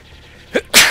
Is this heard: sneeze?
yes